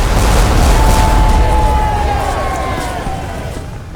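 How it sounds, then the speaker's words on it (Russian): A sailing-ship cannon fired by pulling a lanyard attached to a flintlock: a loud, deep booming roar that rumbles on and slowly fades over several seconds. "командир орудия либо подносил фитиль к запальному отверстию, либо, как показано здесь, дергал за спусковой шнур, соединенный с кремневым замком,"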